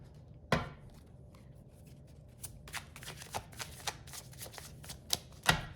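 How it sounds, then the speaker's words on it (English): Oracle cards being shuffled by hand, a sharp riffle at the start followed by a run of soft, quick flicks and slides, then another crisp burst near the end, close and quiet with no talking. "I'm going to pull an oracle card to end this."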